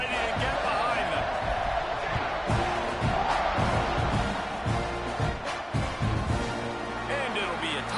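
A college football stadium crowd roars and cheers just before kickoff, a dense, continuous wall of noise under a play-by-play announcer's voice.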